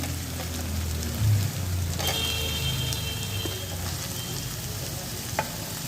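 Chopped capsicum sizzling in hot oil in a pan while cooking gobi manchurian, a continuous loud frying hiss with a few clinks and stirring knocks from utensils.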